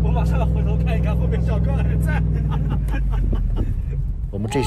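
Steady, close engine rumble from a pickup truck crossing windy desert sand, with passengers talking over it throughout.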